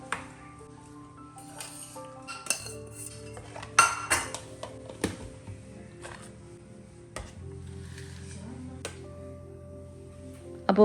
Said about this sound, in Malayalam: എന്നിട്ട് നമുക്ക് പാത്രങ്ങളൊക്കെ ഒന്ന് കഴുകി വെക്കാം